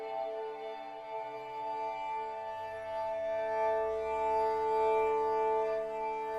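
An Omnisphere glassy synth texture with the granular engine off holds smooth, soft ambient tones with a low, gently swelling undertone. It is steady and plays alone.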